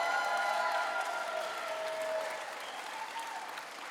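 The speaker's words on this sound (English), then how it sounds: "I think I saw even members of the media clapping for that one." A crowd at a campaign announcement speech for a Missouri governor's race breaks into sustained applause, a steady, moderately distant wash of clapping that slowly tapers off.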